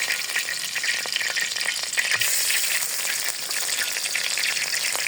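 Spices frying in hot oil, a loud continuous crackling sizzle with quick pops, close and steady with no talking.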